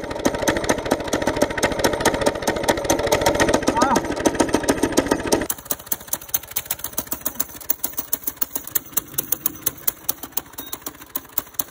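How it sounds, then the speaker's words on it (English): A go-kart engine fitted with a real trumpet as its exhaust runs nearby with a rapid, loud popping rhythm that drops abruptly to a slower, sparser putter like an idle. "Overall, the trumpet exhaust actually kind of worked. It was definitely a lot louder"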